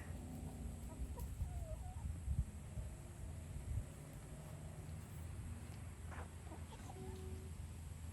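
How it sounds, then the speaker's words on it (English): Chickens cluck and chatter softly at a moderate distance, with scattered short calls over a low rustling background. "A whole bunch of chickens just came out of that area over here."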